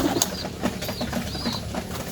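Pigeons cooing softly in repeated low phrases amid rustling and brief flutters of wings, with a steady close background noise throughout.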